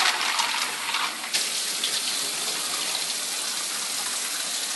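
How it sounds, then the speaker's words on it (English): Hot water gushes steadily into a cup for rinsing out feeding syringes, a continuous close splashing pour that softens slightly after the first second and runs on alone without talk. "I fill the cup up with hot water and I clean them out a few times."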